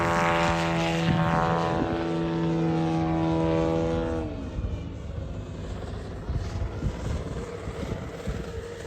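A large-scale 52% Ultimate model aircraft's propeller engine drones loudly in flight, its steady buzzing tone dropping in pitch as the plane banks and turns away, leaving a rougher, fainter rumble.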